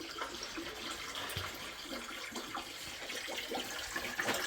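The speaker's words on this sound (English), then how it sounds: "we've just got water now starting to run into the drum" Water pours steadily into a drum through newly fitted connectors, a continuous hissing, splashing rush that stays close and even with small gurgling bursts.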